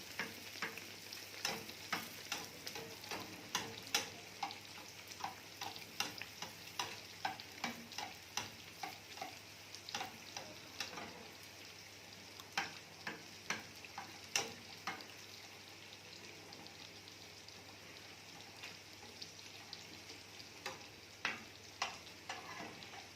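Balloon bread dough made from milk and flour frying in oil, a steady close sizzle broken by many sharp crackling pops and ticks throughout, with no talk.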